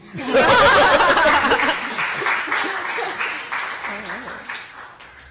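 Audience at a Parkdale Centre media night in Toronto claps together in a dense burst with scattered chuckles, loudest at first and then thinning out, with voices murmuring underneath.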